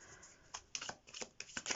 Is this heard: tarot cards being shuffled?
yes